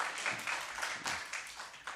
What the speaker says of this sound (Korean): 여러분들이 박수 한번 쳐줍시다